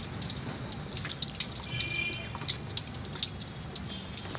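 Sapodilla fruit washed by hand under a running tap, with a steady close splash of water and small irregular drips and spatters throughout.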